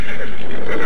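A horse neighs loudly and close in a dense burst of sound lasting under a second, with no talk over it.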